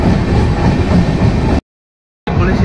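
The 12821 Dhauli Superfast Express runs at speed with a loud, steady rumble and rushing wheel noise close by. A brief gap of silence cuts the sound in the middle.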